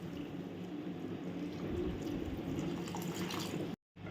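Water is poured into a simmering brinjal, chickpea and tamarind curry, giving a steady close gush and splash that runs continuously for several seconds before cutting off abruptly near the end.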